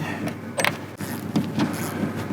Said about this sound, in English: All four corners have these set of these two 12mm bolts. So go ahead and pull all of them out.